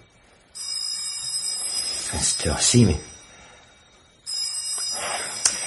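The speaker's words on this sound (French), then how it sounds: "Le téléphone?" A telephone rings as a radio drama sound effect, two long bursts of ringing bell separated by a pause, with someone speaking briefly between them.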